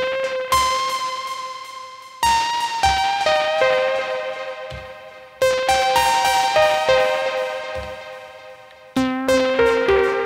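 Pluck synth patch on an Elektron Digitone plays a bright melodic sequence of short plucked notes with decaying tails, in repeated phrases with brief pauses.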